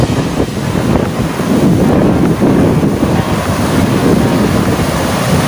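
Ocean waves break near an island shore in a steady, loud roar, buffeted by strong wind on the microphone, with no voices.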